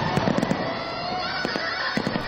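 Rapid crackling fireworks pop and bang continuously at an amusement park fireworks show, dense and loud, with sharper bursts standing out from the steady crackle.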